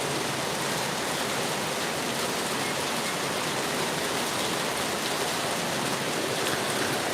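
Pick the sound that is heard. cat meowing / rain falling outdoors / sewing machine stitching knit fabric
rain falling outdoors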